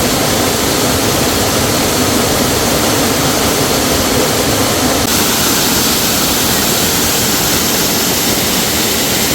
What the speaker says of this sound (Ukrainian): можна було відчути всю потужність і могутність цього прекрасного водоспаду